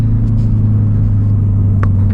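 A Hyundai Veloster N engine at full throttle heard from inside the cabin at night, a loud, steady low-pitched rumbling drone under acceleration.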